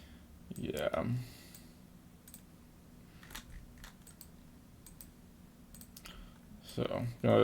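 Sharp computer mouse clicks come in quick clusters at the start and end of a chart backtesting session, with sparse single clicks between them and a steady low hum underneath.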